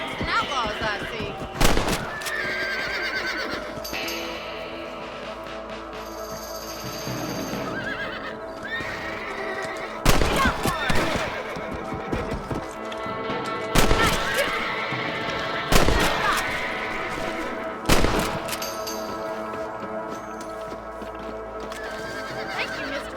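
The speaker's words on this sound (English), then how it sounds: "You're better at shooting rabbits than outlaws, I see" Several sharp gunshots ring out at spaced intervals while shooting rabbits in Red Dead Redemption on Xbox One X, each crack loud and broadband over a steady bed of horse whinnies, hoof clip-clops and outdoor game ambience.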